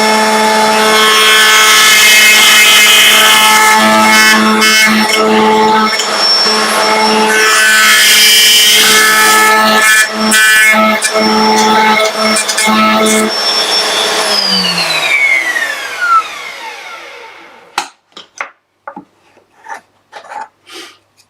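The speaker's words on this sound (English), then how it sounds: "Alright, let's cut some dovetails." A router cuts dovetails in a Gifkins dovetail jig, a loud high-pitched whine with rough cutting noise as it works through the wood for about fourteen seconds, then spins down, followed by a few sharp knocks and clatters.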